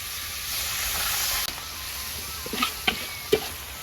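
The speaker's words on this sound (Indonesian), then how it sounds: "Tomate digoreng, Lur." Tomatoes frying in a pan over an outdoor cooking fire, a steady close sizzle and hiss throughout with a few sharp stirring clicks near the end, no talk.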